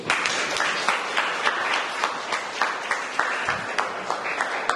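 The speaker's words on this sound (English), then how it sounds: "So a big round of applause for you, please." Audience applause at an art exhibition opening preview, moderate clapping with a few sharper individual claps standing out as it continues steadily.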